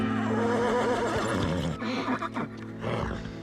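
A horse whinnies loudly and close, a long wavering neigh that breaks into shorter snorting bursts, with no talk over it.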